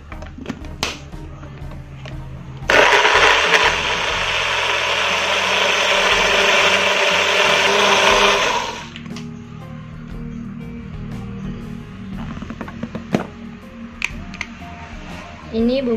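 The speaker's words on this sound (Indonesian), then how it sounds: "Sekarang kita akan menghaluskan bumbu ataupun kita blender bumbunya." A blender whirs loudly and steadily for several seconds grinding spices with a little water, then stops, followed by light clinks and handling noises.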